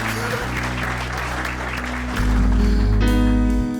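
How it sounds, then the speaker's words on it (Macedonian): A crowd claps for a Vardar handball player in a steady burst of applause; midway, loud music with a heavy bass beat starts under the clapping and keeps playing over it. "Аплауз за Тимур Дибиров"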